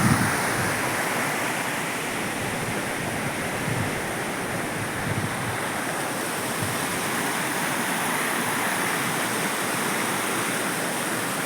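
Flowing water near a Mahakali temple, a steady, loud rushing wash that fills the whole scene without pause and with no voices.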